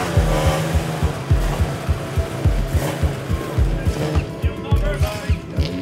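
A rally car leaves service at the New England Forest Rally, its engine pulsing loudly in a steady rhythm of revs and throttle bursts, close by with crowd noise and faint voices beneath.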